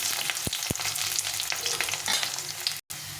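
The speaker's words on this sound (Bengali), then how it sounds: "এখন এই তেলের মধ্যে আমি আলুটাকে ভেজে নেব" Long-cut potato strips frying in hot oil sizzle steadily and closely throughout, with a few sharp stirring knocks against the pan and a brief dropout near the end.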